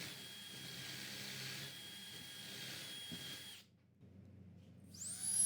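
A power drill whirs steadily at a distance, boring cabinet door hinge holes with a jig, falls silent briefly, then a higher-pitched motor spins up again at the end.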